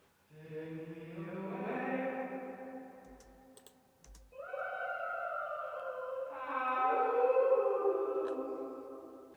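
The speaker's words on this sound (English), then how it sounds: "And then you got these reverb stabs." Reverb-drenched synth chord stabs in a music track: several sustained, echoing harmonic swells that rise, dip briefly, then return fuller and louder, with no voices.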